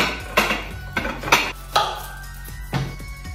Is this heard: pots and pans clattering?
yes